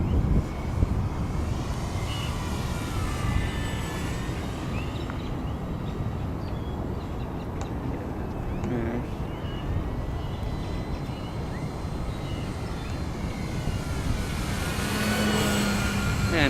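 A Dynam Peaks RC airplane flies inverted down a field, its electric motor giving a steady whine over constant wind buffeting, with the pitch shifting slightly as it passes.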